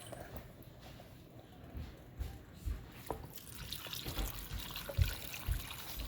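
Dill pickle brine trickles and splashes unevenly into a jar, with small clinks and some background noise throughout.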